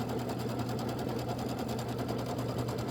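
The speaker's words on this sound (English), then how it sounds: "I better sew it together and see" An embroidery sewing machine stitching a quilt block for a Christmas wall hanging, with a fast, even, mechanical chatter of stitches running continuously and fairly close, with no voices.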